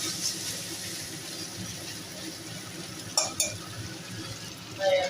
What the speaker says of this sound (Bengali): এবার এই মশলাটাকে আমি ভালো করে কষিয়ে নেব পেঁয়াজের সাথে।